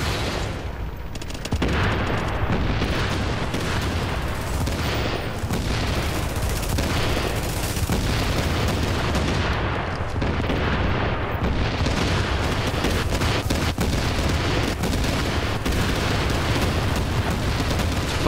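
Explosive-round gunfire in Tom Clancy's The Division, a loud, dense and continuous barrage of shots and booms that keeps going for the whole stretch with no pauses.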